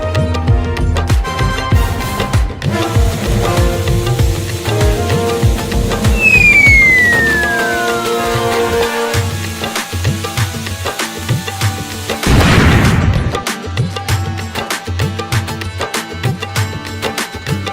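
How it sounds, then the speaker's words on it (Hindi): A Diwali firework rocket whistles upward in a rising glide, then bursts in a loud crackling blast, all over steady festive music. "देखो ये मेरा रॉकेट कितना ऊपर जाता है।"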